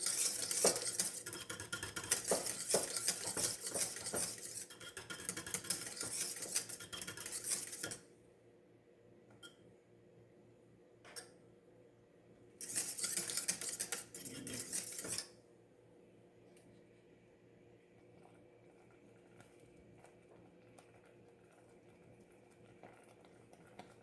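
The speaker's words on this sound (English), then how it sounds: "And I just keep stirring it because I don't want it to stick to the pan." Custard crème pâtissière stirred in a pan as it bubbles: a spoon scrapes and clinks against the metal in two bursts of busy stirring, with soft quiet bubbling between them.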